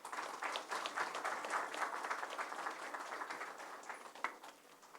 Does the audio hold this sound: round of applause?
yes